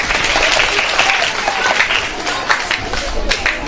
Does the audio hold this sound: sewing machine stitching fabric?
no